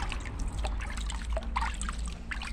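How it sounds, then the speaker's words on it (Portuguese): Rainwater poured over a potted Phalaenopsis orchid makes an irregular trickle and splash of liquid hitting leaves and potting medium, in close soft bursts over a low steady background hum. "Aí eu vou molhar ela."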